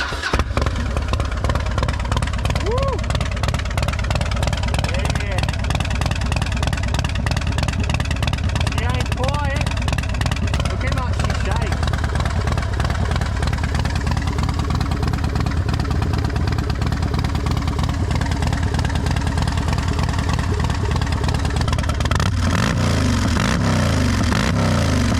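A 2008 Harley-Davidson Fat Bob FXDF motorcycle engine fires up and settles into a loud, lumpy idle with a few throttle blips, close to the microphone, as someone talks over it at times.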